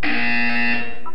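Buzzer in the video game Portal 2: a single loud, steady electronic tone with strong harmonics, held for about a second before cutting off sharply.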